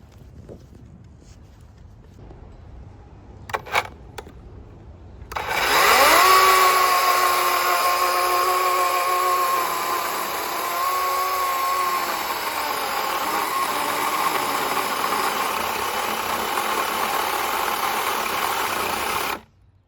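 A DeWalt 20V battery-powered chainsaw milling lumber: quiet handling and a few knocks, then the motor spins up to a loud, steady high-pitched whine cutting through wood, sustained with slight pitch dips under load before stopping abruptly.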